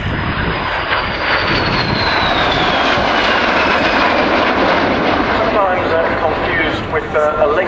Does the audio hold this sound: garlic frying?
no